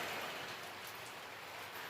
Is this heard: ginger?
no